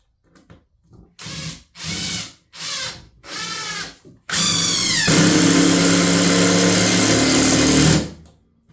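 A power drill drives screws into a garage shelf: several short whirring bursts in a stop-start rhythm, then one long continuous run as the screw seats, loud and close with no talking.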